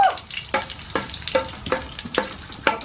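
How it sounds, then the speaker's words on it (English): Hot oil spits and sizzles in a frying pan while Thai food cooks, a steady fry broken by a run of sharp, evenly spaced pops about every half second. "I wonder why the oil's spitting"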